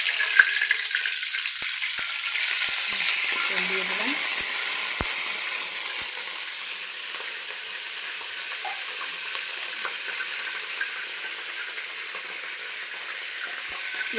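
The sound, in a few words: oil sizzling and frying in a kadai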